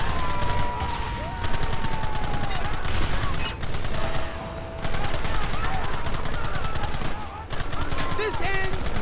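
Gunfire in Red Dead Redemption, dense bursts of rapid shots and rattling volleys filling the whole stretch with brief lulls, loud and close, while voices shout in the fight.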